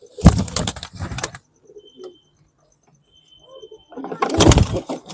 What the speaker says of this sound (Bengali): খুব সুন্দর পায়রা, গঠন দেখেছো, এরকম পায়রা খুব দুর্লভ